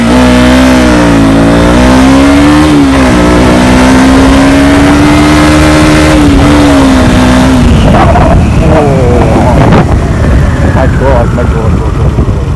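A KTM motorcycle engine revs hard and loud up close, rising and holding steady pitch before dropping and blipping repeatedly, with a rough mechanical edge throughout.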